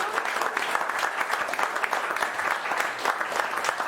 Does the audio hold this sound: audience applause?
yes